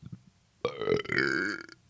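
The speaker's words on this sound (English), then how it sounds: "you can make yourself burp by going like" A long, deliberately forced burp from a person, starting abruptly after a short quiet lead-in and rumbling loudly for over a second with a rough, tonal croak before cutting off.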